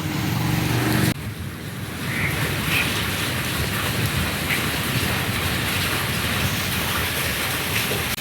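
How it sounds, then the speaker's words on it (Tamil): Heavy rain pouring down during a thunderstorm in Chennai, a dense, continuous roar of falling water close by, unbroken for the whole stretch with no voices. "மற்றபடி மழை பயங்கரமாக பேஞ்சிட்ருக்கு."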